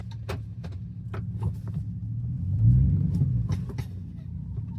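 A cheap old pickup truck bought off Facebook Marketplace, with brand-new brake calipers, rolling along with a low, steady engine rumble from inside the cab, swelling briefly midway, plus small rattles and knocks.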